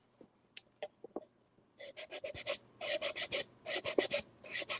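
Fine 320-grit sandpaper rubbed by hand across an upcycled thrift-store piece, a few light scratchy strokes at first, then a steady run of close, rhythmic back-and-forth rasping passes.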